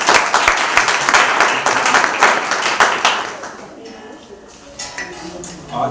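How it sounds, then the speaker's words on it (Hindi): A congregation at a New Year service breaks into loud, dense applause with clattering claps that fades after a few seconds, leaving quieter room sound and a few scattered claps. "आइए एक बार उस पवित्र परमेश्वर के लिए जोरदार ताली बजाएं।"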